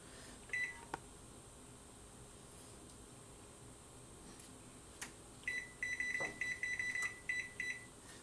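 An oven timer being set gives a short beep, then after a pause a quick run of repeated electronic beeps, all close by in a quiet kitchen.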